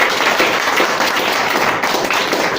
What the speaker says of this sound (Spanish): le damos un aplauso muy fuerte a nuestro Padre